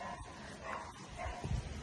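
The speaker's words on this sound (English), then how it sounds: "Oh, guys, there's a dog coming." A dog barks and yips along a path near a waterfall, a few short calls rising toward the end over steady outdoor background noise.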